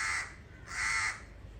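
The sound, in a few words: crow cawing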